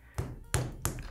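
Hands tap and press a lump of pottery clay while shaping a chicken's beak, giving three soft, dull thuds spaced about a third of a second apart, close and fairly quiet.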